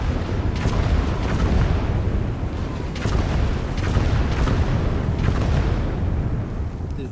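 Rocket artillery from the Andrusha launcher in the Eastern Front war game Gates of Hell, a dense rumbling barrage of booming blasts that swell and roll continuously, with sharper impacts near three and five seconds.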